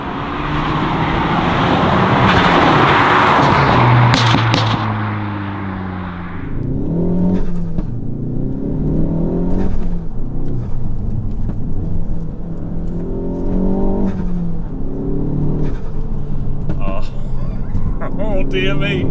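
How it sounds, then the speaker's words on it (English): A Mk4 Ford Focus ST with a Stage 2 REVO tune roars under acceleration with loud turbo intake whoosh, then shifts into rising revs with repeated flutter chatter as a voice talks over it. "Now I've got to say that intake noise and turbo flutter is very, very addictive."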